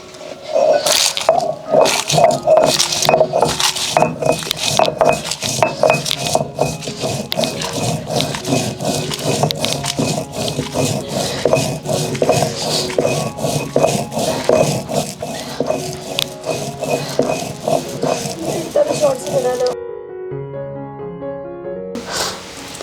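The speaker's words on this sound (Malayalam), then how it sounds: "നമുക്ക് ആദ്യം മുളകൊന്ന് അരച്ചെടുക്കാവേ" Chilies are ground for seasoning in a steady run of rhythmic scraping and squishing strokes, loud and close, for about twenty seconds before the grinding stops and a quieter, different tone follows.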